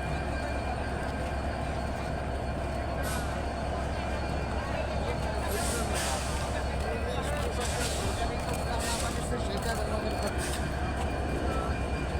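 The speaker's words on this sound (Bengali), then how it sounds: "যশোর রেলওয়ে স্টেশনে আমরা এখন আছি" Busy ambience at Jessore railway station, Bangladesh: a constant low rumble of trains with a hubbub of crowd voices and occasional hissing bursts, people talking throughout.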